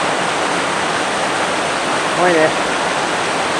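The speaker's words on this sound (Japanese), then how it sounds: "幻の滝" Mountain trail waterfall at Subashiri roars as a steady broadband rush throughout, with a brief voice speaking near the middle over the water.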